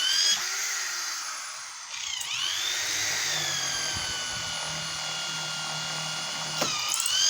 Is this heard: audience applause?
no